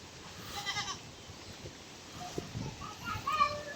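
A goat bleats twice at close range, once early and once near the end, with faint background voices in between.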